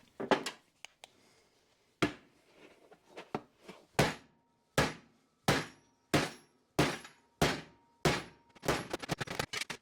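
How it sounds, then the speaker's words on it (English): A planishing hammer shapes sheet metal during a mini truck build, sounding as sharp, loud metallic taps, first spaced irregularly, then in a steady rhythm of ringing strikes, ending in a rapid burst of hits. "We're just going to do it quickly with the planishing hammer"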